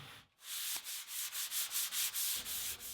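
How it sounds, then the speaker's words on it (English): Hand sanding of dried joint compound filler and primer on an MDF frame, heard as steady rhythmic back-and-forth rasping strokes, close and loud, around nine even passes with no talking. "now I'll sand the fill and the primer at the same time"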